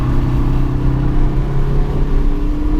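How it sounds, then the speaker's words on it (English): A BMW M4 at speed on a race track at Ridge Motorsports Park, its engine a loud, steady mid-pitched drone with a sustained harmonic whine, heard close and continuous throughout without any speech. "That M4 is bloody quick."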